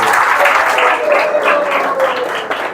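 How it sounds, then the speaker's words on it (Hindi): Loud, sustained applause from an audience at a spiritual talk, dense continuous clapping filling the room with little talk over it. "सबके लिए जोरदार हाथों से तालियां।"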